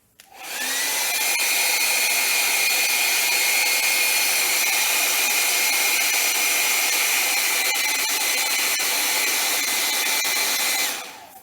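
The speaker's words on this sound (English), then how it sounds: "So we're going to blow this dry real quick." A hair dryer blows paint dry on a derby hat, switching on with a steady loud whirring roar that holds evenly for about ten seconds before cutting off, close by with no talking.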